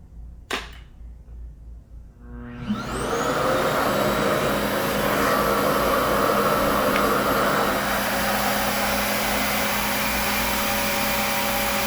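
After a click and brief handling noises, a RevAir reverse-air blow dryer whirs up into a loud, steady, high-pitched motor and airflow roar that continues unbroken close by.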